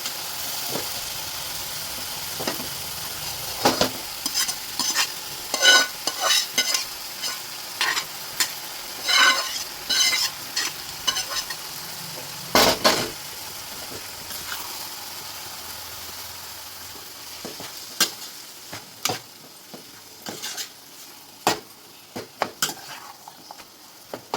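Spinach fries in a pan with a steady sizzle while a spoon scrapes and clatters against the metal in frequent stirring strokes, close and clear, with no talking.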